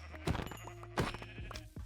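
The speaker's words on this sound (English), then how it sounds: "I spotted some sheep in the distance" Minecraft sheep bleat repeatedly in short, moderately loud calls of varied length, with no one talking over them.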